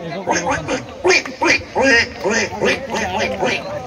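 A magician at a stage performance imitates a couple of ducks with his voice, producing a rapid series of loud, nasal quacks in uneven bursts close to the microphone.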